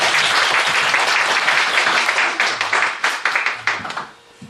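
Audience applause welcomes a guest speaker to the stage at a Korean church lecture event. The clapping is dense and steady at first, then thins into scattered claps and fades out near the end.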